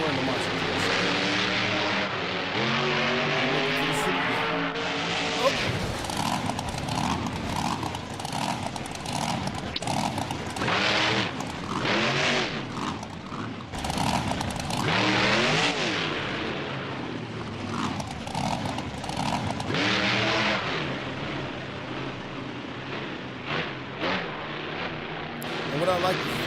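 A monster truck engine in BeamNG, heard as a loud, continuous, droning roar that rises and falls throughout, with a person talking over it.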